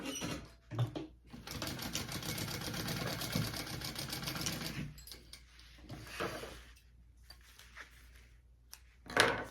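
Sewing machine basting fabric for a handmade pack, its needle chattering in fast bursts that start, stop and restart, with brief handling noises between runs and no talking.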